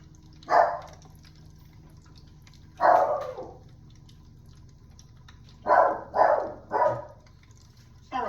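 A dog barks in separate bursts: one, then another, then a quick cluster of three, fairly close against a quiet background hum.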